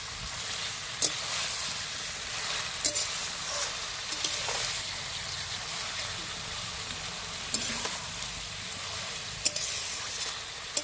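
Elephant foot yam stems sautéing in plenty of oil with salt in a pan, a steady close sizzle and hiss running throughout with occasional stirring scrapes and clicks.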